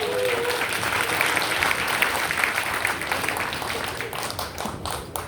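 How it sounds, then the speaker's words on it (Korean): Audience applause opens the 22nd Northwest Regional Presbytery Council sports day, steady broadband clapping from a sizeable crowd filling the whole stretch, with a brief voice near the start. "박수합시다"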